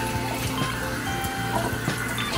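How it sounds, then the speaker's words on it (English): Running water rinsing off the face and skin after shaving in a bathroom sink, a steady close splashing stream continuing throughout with small drips and splashes. "Let me just rinse this off."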